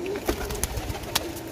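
Pigeons kept as breeding pairs coo in short soft bursts, a few distinct calls rising over a steady low murmur nearby.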